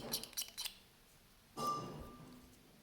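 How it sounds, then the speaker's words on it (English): A few light clinks come first, then the back of a blade scrapes across a plastic model component in one short, close rasping stroke with a faint squeal to it. "I'm going to scrape using the back of the blade over that component area."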